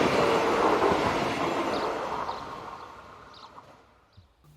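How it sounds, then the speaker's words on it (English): A Z23500 electric multiple unit train heading towards Lille passes close by with a broad rushing rumble that fades steadily as it moves away, ending in a few faint clicks. "a Z23500 electric unit heads towards Lille"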